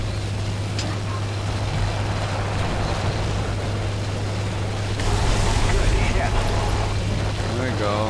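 A dive bomber in War Thunder dives toward its target as a loud, continuous engine and wind roar with a steady low hum underneath that swells slightly partway through, while a player talks over it.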